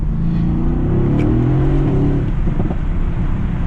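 A 2019 Mercedes-AMG GT S at full throttle, its engine roaring steadily and loudly from inside the cabin as the car accelerates hard, with traction control intervening.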